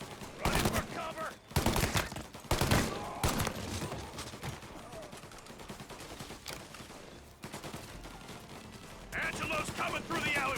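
Gunfire in the video game Mafia: Definitive Edition comes in several loud bursts of shots separated by quieter stretches, with game voices and a shootout din around them.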